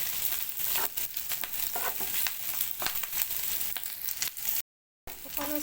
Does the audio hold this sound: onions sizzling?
yes